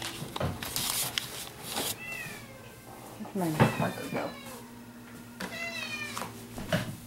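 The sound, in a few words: domestic cat meowing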